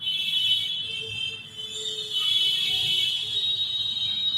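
A hanging bird toy for a one-month-old baby gives off a slow, steady high-pitched electronic tone, loud and continuous throughout with a brief dip midway, and no talking.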